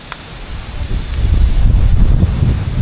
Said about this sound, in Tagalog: Wow, lakas ng hangin.